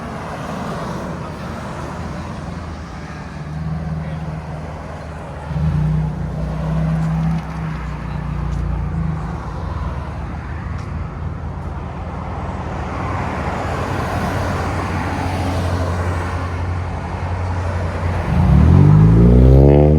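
A 2024 Toyota Camry SE with a 2.5L engine and a Flowmaster Flow FX exhaust gives a steady, low exhaust drone that rises a little as it revs. The sound swells louder near the end, with no talk over it.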